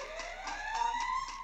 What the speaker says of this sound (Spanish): ¡Suenan las alarmas!